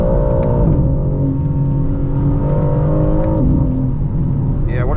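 A 2025 BMW M4 CS engine revving loud and close as the car accelerates, pitch climbing and dropping through gear changes in a steady continuous roar, heard from inside the cabin on a test drive.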